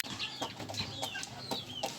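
Roosters clucking and crowing softly at feeding time on a small backyard poultry farm, several overlapping calls close by, with light rustling and wing flutters and no talking.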